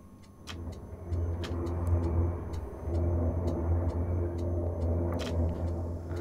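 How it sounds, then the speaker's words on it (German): A car engine rumbles steadily as a vehicle approaches in the PC game LOTUS, a low, continuous drone that grows slightly louder, with faint clicks and ticks over it and no talking. "Da kommt ein Fahrzeug."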